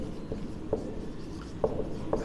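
A formula is written out by hand during a class 12 chemistry lesson on normality, with soft scratching strokes and a few sharper taps in an irregular rhythm, faint and close, with no voice over it.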